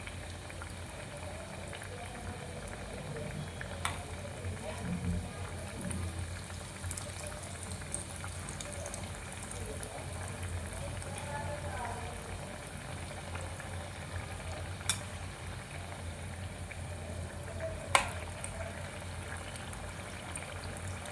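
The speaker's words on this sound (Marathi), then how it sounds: "हे आपण असे सगळे डीप फ्राय करून घेऊ." Snacks deep-frying in oil on low to medium heat make a faint, continuous bubbling hiss that holds steady for a long stretch, broken by a few light clicks.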